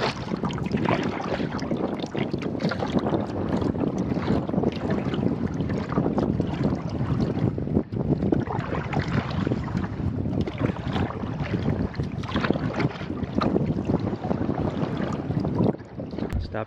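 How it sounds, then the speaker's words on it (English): Strong wind gusts across a lakeshore campsite on a solo canoe trip in the Boundary Waters, a steady loud roar of air and microphone buffeting that continues without a break. "It's getting a little windy around here."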